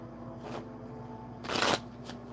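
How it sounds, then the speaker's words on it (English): Tarot cards being shuffled by hand in a quiet room, a soft riffle near the start and a louder, fuller burst of card shuffling later, with no talk over it. "I already shuffled these cards. I don't know what I'm shuffling for."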